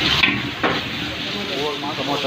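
Ginger is dropped into garlic frying in oil in a big pot of chicken biryani, about three kilos, giving a loud, steady sizzle with brief crackling bursts as the ginger hits. Continuous hissing fills the whole stretch.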